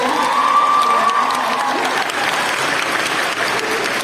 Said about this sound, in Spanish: quieran darle otro aplauso a Gabriel